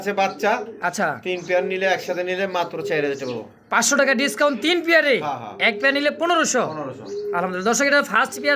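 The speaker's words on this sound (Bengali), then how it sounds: "আরো এক জোড়া কিন্তু রেসার কবুতর দেখেন" Racing pigeons coo in soft, repeated bursts beneath someone talking in Bengali nearby.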